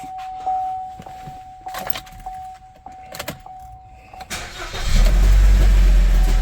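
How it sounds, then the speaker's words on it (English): A 1.4 liter turbo Ecotec engine with a thrown drive belt cranks and starts late on, then runs loud and close. Before that, scattered clicks sound over a steady electronic chime. "it definitely sounds like a drive belt chucked"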